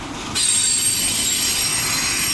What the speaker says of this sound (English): this is a mixed consist. There's hopper cars, we got some chemical cars, tanker cars